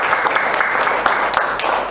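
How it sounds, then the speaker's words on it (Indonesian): A group in a classroom session claps steadily for about two seconds, a close, fairly loud patter of many hands with faint voices underneath. "Berikan tepuk tangan dulu."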